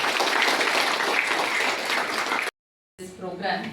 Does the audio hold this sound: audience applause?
yes